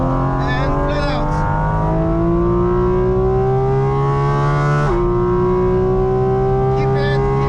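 Porsche GT4 RS flat-out on the Nordschleife, its engine note climbing steadily in a loud, continuous onboard drone, with a brief dip around a gearshift before it rises again.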